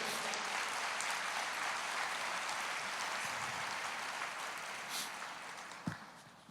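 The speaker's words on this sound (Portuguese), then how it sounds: "Aplauda ao Senhor." Church congregation applauding during a Portuguese-language worship service, a steady dense wash of clapping that holds loud throughout, then thins slightly toward the end with a single sharper knock near the close.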